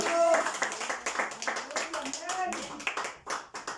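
Clapping from a church congregation at a lively worship service, scattered hand claps mixed with cheering voices and talk throughout.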